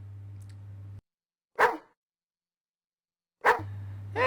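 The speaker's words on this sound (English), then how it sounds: "people normally wouldn't think twice about visiting an area with a barking dog" A dog barking in the Phantasmagoria computer game, two sharp separate barks a couple of seconds apart, loud and close against otherwise silent gaps, with a low game hum before and after.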